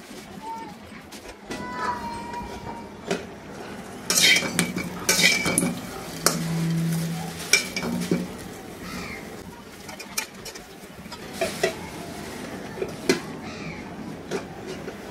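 Food being turned over and stirred in a pan as it chars and cooks, with metal clinks and scrapes of utensil on cookware in bursts, under ongoing talk and occasional birdsong in the background.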